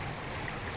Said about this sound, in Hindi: ये देखिए पानी कितनी तेज़ी से यहाँ से निकल रहा है।